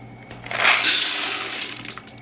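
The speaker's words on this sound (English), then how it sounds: "So let's give these a little rinse." Running water splashes over dry beans being rinsed, a close, hissing gush that swells quickly and then settles into a steady wash for a couple of seconds.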